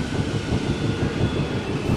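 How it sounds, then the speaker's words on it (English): A goods train rushing through a rail yard much too fast, a steady loud roar of rolling wagons and wheels that holds unbroken from start to finish. "One day, Thomas was in the yard when a goods train came rushing through much too fast."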